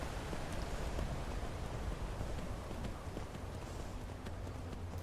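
Horse hooves clip-clop in the video game Skyrim, a continuous rhythmic trotting under a dense wash of game ambience, steady and moderately loud throughout with no one speaking.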